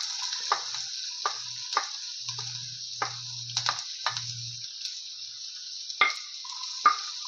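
Chopped onion and carrot sizzle steadily in a hot pan for egg rice, with a bright continuous frying hiss, scattered stirring scrapes and a few low knocks throughout.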